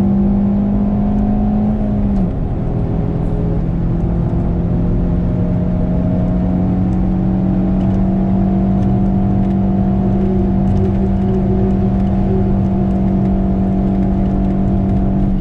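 A car accelerates hard through a lap, its engine a steady loud drone with a sustained rising tone, continuous and close throughout with no talk.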